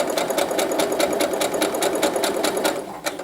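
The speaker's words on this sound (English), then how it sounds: "to continue sewing till we reach the corner right here" A sewing machine stitching a pin cushion runs steadily at close range, giving a fast, even mechanical chatter of needle strokes with no talking.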